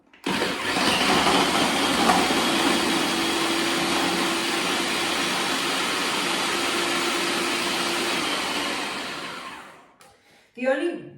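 A food processor whizzes crumble ingredients for a chestnut and quince cake in a steady, loud, sustained whir lasting about nine seconds, then cuts out, followed by a brief burst of noise.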